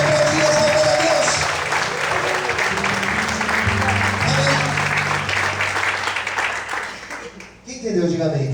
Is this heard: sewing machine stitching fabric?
no